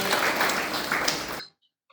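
A church congregation claps in a dense, steady burst of applause for about a second and a half, then it stops abruptly into silence.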